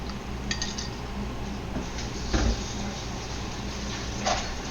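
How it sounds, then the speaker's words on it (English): Utensil scraping and clinking against a pan while stirring a beef and Chinese greens (yu choy) stir fry, with a couple of sharper clinks over steady low kitchen background noise. "Okay, give that a stir, mix everything up"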